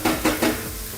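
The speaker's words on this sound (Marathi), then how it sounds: "आता यात घालायचंय पाणी" Cold water is poured into a hot pan of sautéed ragi soup ingredients, giving three quick splashing gushes that settle into a soft sizzle, close and alone.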